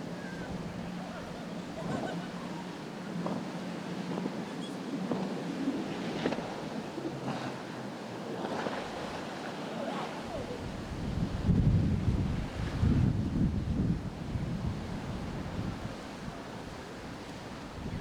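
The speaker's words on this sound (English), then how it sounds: "we have an MTI V42 center console with quad Mercury 400Rs" An MTI V42 center console boat powered by quad Mercury 400R outboards runs through rough waves at a windy inlet, engine drone mixed with surf crash and heavy wind buffeting, loudest in the latter half.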